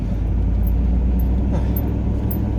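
Inside a moving car on an outback road, a constant loud low engine and road rumble drones steadily with no breaks.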